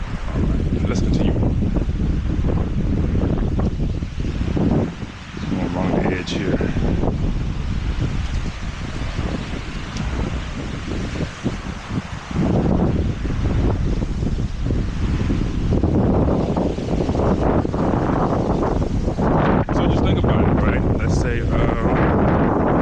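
Strong wind blows by a lake, roaring and buffeting the microphone almost continuously, loud and close, with someone speaking intermittently beneath it.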